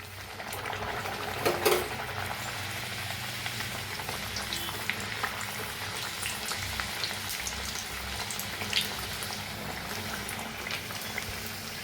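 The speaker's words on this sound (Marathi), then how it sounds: "आता साईडला तेल बी ठेवले, तेल बी आपलं चांगलं तापले। पुरी सोडूया तेलात।" Puris for matar puri fry in hot oil with a dense, steady bubbling sizzle, close and even throughout, with an occasional louder splash or clink and no talking.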